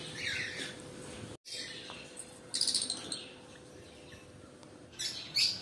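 Caged cockatiels in an aviary give faint, scattered chirps and short tweets over a quiet background, with a few brighter calls standing out near the end.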